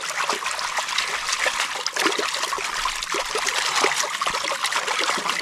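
Steady rushing and trickling of a cold river fed by freshly melted snow, close and continuous, with small splashes and no voices.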